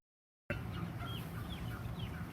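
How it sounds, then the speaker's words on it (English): Young turkey poults, less than a day old from the hatchery, fill a brooder barn on a turkey farm with continuous overlapping peeps and chirps over a steady barn hum, starting abruptly after a moment of silence. "this is a brooder barn. So we get turkeys from the hatchery when they're less than 1 day old."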